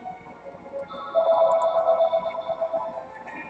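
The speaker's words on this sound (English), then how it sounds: "My phone is still ringing" A phone rings with a steady electronic tone that sounds faintly and muffled, low against a quiet background and fading in and out.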